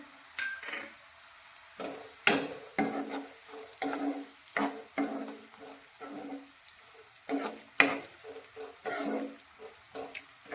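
White sesame seeds sizzle in hot oil in a pan for an okra curry, a steady hiss broken by repeated scraping strokes of a spoon every second or so, close and without voices.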